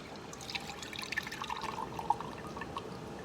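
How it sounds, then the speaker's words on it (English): Water being poured a little at a time into a puzzle box, heard as faint trickling and dripping with a few small splashy plinks, soft and close. "All right, so we're gonna pour a little bit in."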